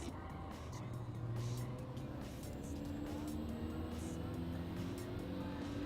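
Racing car engine in Gran Turismo 7 on PS5 during a late-braking overtake, a steady, fairly faint engine drone with gear-like tonal shifts throughout.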